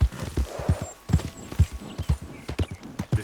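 A horse's hooves clip-clop at a steady trot while riding in Red Dead Redemption 2, the rhythmic thuds close and clear, with a brief whinny-like tone and no talking over them.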